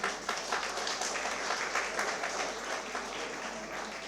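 A crowd at an installation ceremony claps and applauds steadily throughout, a dense, even roar of many hands at moderate loudness.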